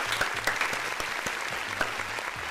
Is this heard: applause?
yes